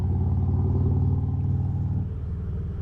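Steady engine drone and road rumble from a motorcycle cruising at high speed through Denver, loud and continuous, easing slightly in pitch near the end.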